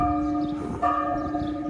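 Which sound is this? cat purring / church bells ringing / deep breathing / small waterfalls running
church bells ringing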